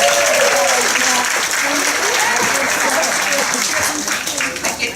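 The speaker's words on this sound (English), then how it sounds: "By a round of applause, who beat your first record?" Loud audience applause at a live teamwork magic show fills the scene, dense clapping sustained throughout and tapering in bursts near the end, with a presenter's voice audible over it.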